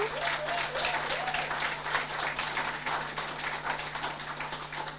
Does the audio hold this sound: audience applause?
yes